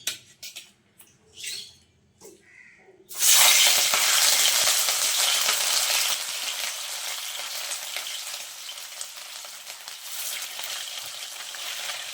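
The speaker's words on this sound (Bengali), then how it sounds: "এখন মাছগুলো ভাজার জন্য দিয়ে দিচ্ছি।" Fish dropped into hot mustard oil in a wok sets off a sudden loud, close sizzle that holds steady as a dense, crackling hiss after a few soft clinks at the start.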